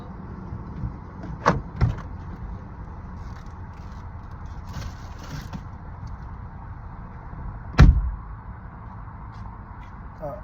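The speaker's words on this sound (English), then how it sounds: "Lady just kind of pulled on my door" A car door rattles and thuds twice early on as someone tugs it from outside, then a louder clunk comes later, heard from inside the car against a low background hum.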